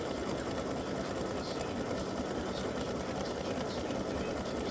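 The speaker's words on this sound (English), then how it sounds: "I have to go make this satin stitching, all the part that does all the satin stitching one color." An appliqué embroidery machine sews satin stitching in one color, a fast, steady mechanical whirring and clatter held at close range, loud and continuous throughout.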